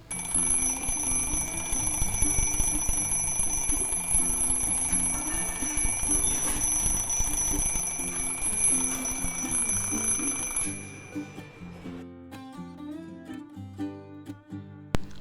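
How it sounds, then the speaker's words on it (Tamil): An alarm clock rings loudly and steadily with a bright electronic tone, then switches to a short beeping melody near the end. "இது அலாரம் செட் பண்ணிங்கன்னா அடிக்கும்"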